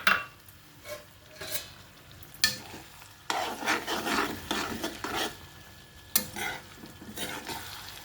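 Eggplant frying in a pan with chili powder added, stirred with repeated scraping and clinking of a utensil over a continuous close sizzle, no talk.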